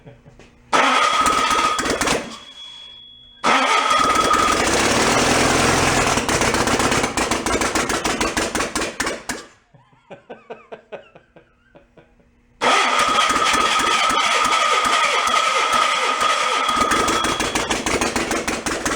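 An old, junk Volkswagen engine cranks and fires, running loud and rough with throttle blips, cutting out briefly before restarting and roaring steadily again, close by.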